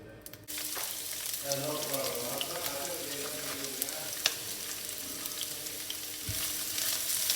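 Sliced onion drops into about three tablespoons of hot oil for a prawn biryani, starting a sudden close sizzle that settles into a steady crackling fry with occasional stirring clicks.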